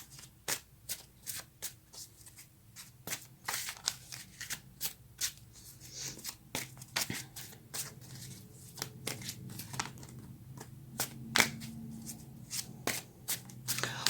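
Tarot cards shuffled by hand in steady bursts of crisp riffling and soft slaps, close up and fairly quiet, with no talking over them.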